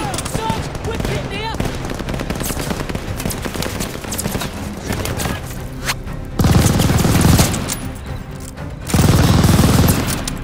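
A tower-mounted machine gun rattles in long sustained bursts during a D-Day beach assault in Call of Duty: Vanguard, loud and close, amid shouting voices and a dense battle din.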